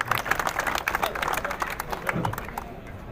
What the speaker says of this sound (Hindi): तालियों के साथ इनका इस्तकबाल किया जाए।